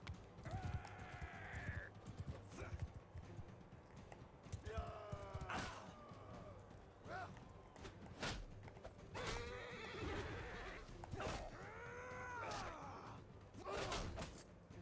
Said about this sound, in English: Let's mount the horse.